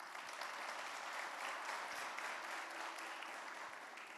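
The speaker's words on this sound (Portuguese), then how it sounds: "Você pode aplaudir Jesus?" Church congregation applauding together in a sustained, even wash of clapping that fills the room, steady throughout with a slight fade at the end, without any speech.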